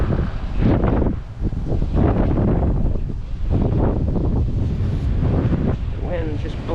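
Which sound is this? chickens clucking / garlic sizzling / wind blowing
wind blowing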